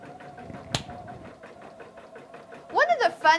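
Husqvarna Viking Topaz 30 embroidery machine sewing a satin stitch around an applique edge, a steady rapid mechanical hum running throughout, with one sharp click early and a voice speaking over the end.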